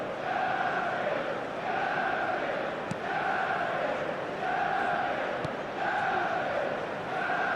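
A large crowd roars continuously in the eFootball video game, swelling in regular waves like a packed stadium, loud and distant with no single voice standing out.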